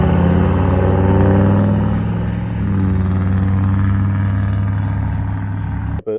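A pickup truck engine idles and revs with a loud, steady low rumble that swells slightly early on, then cuts off abruptly near the end.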